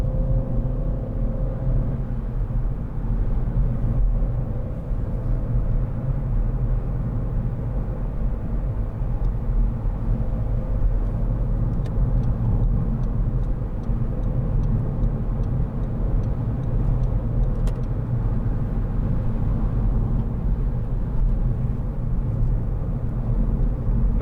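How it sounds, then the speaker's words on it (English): A 2012 SEAT Ibiza 1.4 Sportrider five-door hatchback cruises along a road, heard from inside as a steady low engine and road rumble with a few faint ticks, continuous and even, without talking. "nice handling little car."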